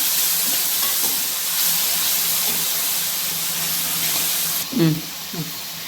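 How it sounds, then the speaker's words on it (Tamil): Ginger garlic paste sautéing in a pan gives a steady, close frying sizzle and hiss, with a few brief stirring scrapes near the end. "நல்லா அந்த பச்சை மணம் போகிற வரைக்கும் நல்லா நீங்கள் சாட்டே பண்ணுங்கள்"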